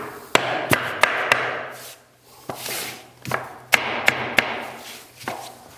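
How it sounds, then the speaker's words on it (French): A mallet knocks on a plastic tapping block to lock floating engineered parquet boards together, a run of sharp, close wooden taps in uneven bursts of two to four blows with short pauses and no speech. "je peux m'aider d'une cale plastique et d'un maillet pour avoir un emboîtement parfait"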